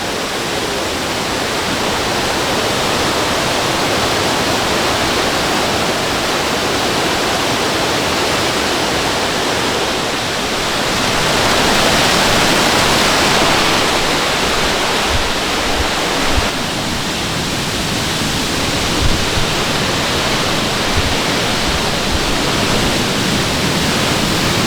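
A waterfall in Negril, Jamaica roars in a dense, continuous broadband rush that stays loud and close throughout, with no voices over it.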